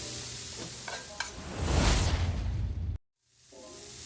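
Onions seasoned with garlic powder, paprika, cumin and chipotle get stirred in a hot pan: a few scrapes, then a swelling sizzle that cuts off abruptly before a quieter hiss returns.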